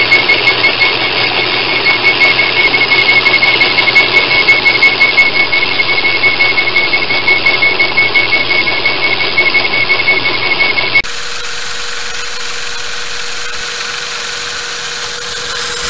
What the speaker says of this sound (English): I'm going to turn that on my lathe to the dimensions as specified in the drawings here.